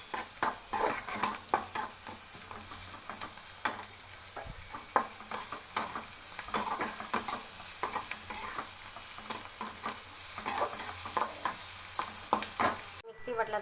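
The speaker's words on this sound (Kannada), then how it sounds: "ಸ್ವಲ್ಪ ಈರುಳ್ಳಿ ಎಲ್ಲ ಕೆಂಬಣ್ಣ ಬರೋವರೆಗೂ ಹುರಿಬೇಕು." Onions fry in a pan until reddish, giving a steady close sizzle with repeated scraping and stirring strokes and occasional light clinks of a utensil against the pan.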